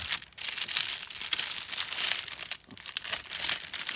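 Plastic packaging of a cross-stitch kit being opened, steady close crinkling and crackling with brief tearing-like scrapes, continuous and fairly loud with no talking.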